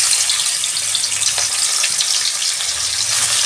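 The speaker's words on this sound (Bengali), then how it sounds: "মাছটা আমি ভেজে নিচ্ছি" Fish frying in hot white vegetable oil in a pan, a steady close hiss of bubbling oil running evenly throughout with no talking.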